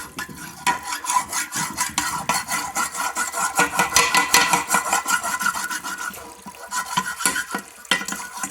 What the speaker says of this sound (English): I'll rub it with a hammer.